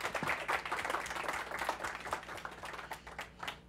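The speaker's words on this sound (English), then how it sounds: "let's give a big clap to Milena" A small audience claps for the speaker Milena after a talk on AI explainability, a steady patter of many hands at moderate volume that carries on without speech.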